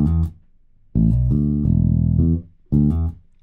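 A virtual bass played from keys, position 5, sounds a short phrase of deep, loud, sustained bass notes. Three separate groups follow one another, with short gaps between them.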